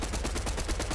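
Rapid automatic gunfire from a Fortnite match, firing at an enemy positioned up high, a steady close burst of shots filling the whole second with no talk over it.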